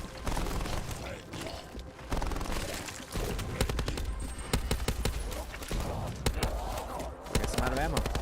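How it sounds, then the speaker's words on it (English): Rapid gunshots from a weapon being fired from the hip in a video game, loud repeated cracks in irregular bursts with a voice talking over them, ending as the ammo runs out. "A few more shots, and my weapon will fall silent."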